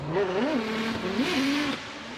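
A Spec-D race car in qualifying at Mission Raceway Park revs up through the gears, its engine note climbing and dropping with each shift, loud and steady with no talk.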